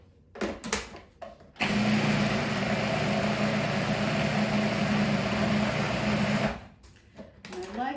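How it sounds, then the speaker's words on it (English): A food processor blends eggplant nam prik in one loud, steady whirring run of about five seconds, with brief clatter just before and after. "It's one of the reasons that I do this in the food processor instead of the Vitamix."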